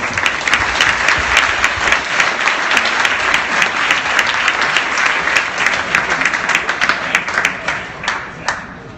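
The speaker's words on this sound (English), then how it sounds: "Big round of applause." An audience at a startup pitch night applauds after a pitch, a loud, dense burst of clapping that carries on steadily and tapers off at the end.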